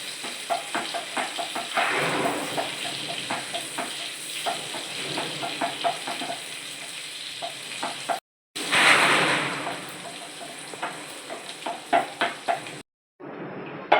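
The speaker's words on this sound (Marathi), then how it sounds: "लसूण चांगला परतून द्यायचा" Garlic sautés in melted butter in a pan, with a steady sizzle and a run of quick rhythmic stirring clicks from the spoon, broken by a couple of brief silent gaps.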